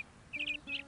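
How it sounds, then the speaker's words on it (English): A small sparrow gives two short bright chirps, clear and fairly close, separated by a brief pause against quiet background. "you see that little sparrow up there?"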